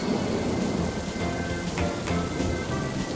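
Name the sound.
rain and thunder in Peppa Pig cartoon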